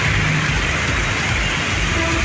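Heavy rain pours down in Tiruppur as a steady, dense hiss of falling water that holds constant throughout, with no voices.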